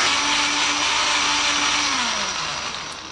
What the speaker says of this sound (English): we grab some tissue, some ordinary spinach, and add it to a household blender